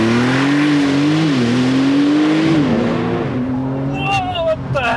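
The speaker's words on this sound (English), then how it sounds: "So I'm going to mash the throttle. It's going to go launch, and then I'm just going to release the brake." Porsche 911 Turbo S doing a launch: a loud, close engine drone rises and shifts pitch as the car accelerates hard, easing off near the end while voices briefly talk over it.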